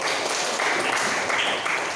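Classroom applause for a student during an algebra lesson, a loud, dense wash of clapping that holds steady throughout.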